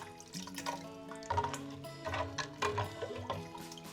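Water poured into a vessel for a Ugadi festival neem drink, a soft trickling and dripping under a steady hum of background music.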